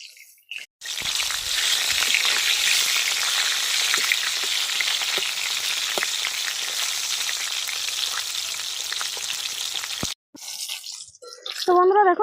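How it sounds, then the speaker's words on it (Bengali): Whole tender brinjals fry in hot oil and are turned over, making a loud, continuous hissing sizzle with small pops for about ten seconds. It then breaks off, followed by brief scraping and a short voice at the end. "এই দেখুন আমি এগুলো উল্টে পাল্টে ভালো করে ভেজে নেব।"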